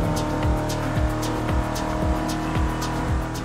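Car engine in The Crew Motorfest racing game, a mid-20th-century vehicle with no electronics: a loud, steady engine note that revs and shifts repeatedly in quick cycles, close and alone with no voices.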